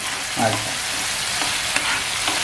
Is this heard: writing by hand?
no